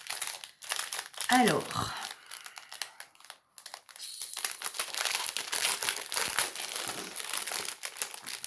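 Paper packaging from an Action store is torn open and unwrapped close up, with loud continuous crinkling and rustling and a few sharper tearing bursts, while someone speaks French briefly over it.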